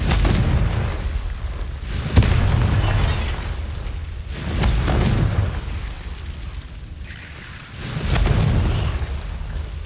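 Confringo spell explosions in Hogwarts Legacy on PS5: several loud booming blasts with rumbling tails, repeating roughly every two to three seconds, full and close with no voices.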